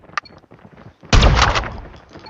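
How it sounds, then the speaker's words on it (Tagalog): A shotgun blast booms loudly in a shooting video game, a sudden heavy report with a sharp attack and a rough, decaying tail lasting under a second, after quieter clicking and handling sounds. "Pakitaan kita paano mag-shotgun."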